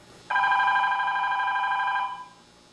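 A telephone rings once with a steady electronic tone that lasts under two seconds, loud and close, then fades away with nothing else heard.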